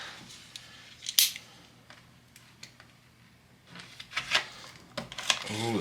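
Tough plastic blister pack holding three small shaver replacement blades is cut and pried open, bringing sharp snips, crackles and crinkling bursts with quiet gaps between them.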